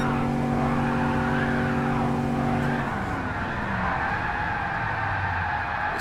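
Car drifting in GT Sport on a direct-drive racing rig, the engine held high near redline in fourth gear with a steady droning whine, then dropping as tires squeal and scrub, loud and continuous.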